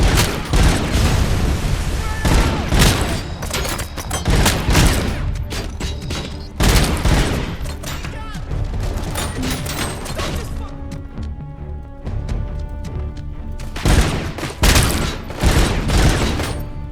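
Hip-fire gunfire in the video game RoboCop: Unfinished Business: loud, dense bursts of rapid shots mixed with booming impacts, nearly continuous, with only brief lulls between volleys.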